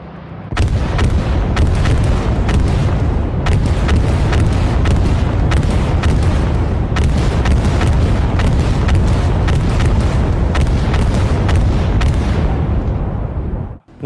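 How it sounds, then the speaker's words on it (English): Loud battlefield explosions and artillery-like blasts boom repeatedly in a Battlefield video game, a dense, continuous barrage of heavy bursts and crackling gunfire lasting throughout before cutting off abruptly. "The puff of smoke, the debris, the dirt that flies in the air, to the actual flame that pops from the explosion"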